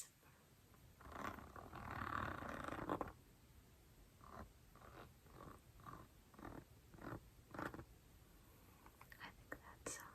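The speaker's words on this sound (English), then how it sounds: "I will run a fingernail along the zipper." A fingernail drags along a zipper, producing a string of short, soft ticking rasps at a close, quiet level after a brief whispered stretch.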